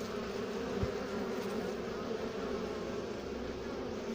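A dense, steady buzz of many bees hums close by, constant and full without pause, with no talking over it.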